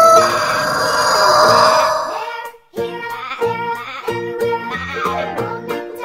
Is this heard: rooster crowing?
yes